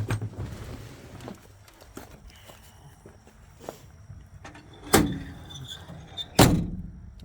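Two sharp, solid thuds of a cab-over-engine truck door slamming shut ring out near the end, after quieter shuffling and rustling, close and fairly loud.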